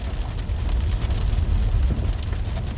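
Rain falls steadily on a van, a dense, even hiss with a low rumble underneath. It runs on its own, with no talk and no breaks.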